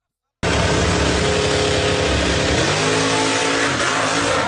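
A truck launches hard. Its engine roars loud and continuous from a sudden start, with the pitch climbing through rising revs and shifting partway through.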